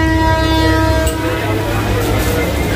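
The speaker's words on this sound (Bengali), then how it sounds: "আমাদের এই ট্রেন ছেড়ে দিয়েছে তার গন্তব্য বর্ধমানের উদ্দেশ্যে" A Katwa–Bardhaman local train departing Srikhanda station rumbles steadily nearby with a sustained horn tone over the engine noise, loud and continuous.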